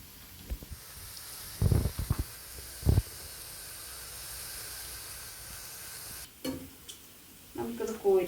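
Fish pieces frying in oil for Angamaly-style fish pickle, a soft steady sizzle and hiss under a few brief knocks and stirring sounds, with a voice briefly heard near the end.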